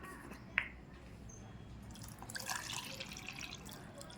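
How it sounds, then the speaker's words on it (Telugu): Water splashes faintly into a bowl of sliced potatoes being prepared for homemade chips, a soft trickling pour with a small clink early on, quiet and close. "దీంట్లో ఈ ఆలుగడ్డ మునిగేంత వరకు వాటర్ వేసుకోవాలి"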